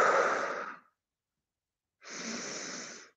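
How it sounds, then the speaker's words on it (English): Two slow, deep breaths during a mobility and stretching exercise session, each a soft airy rush lasting about a second, separated by silence, close and clear with no talking. "Relax, breathe into your belly, big deep breathing."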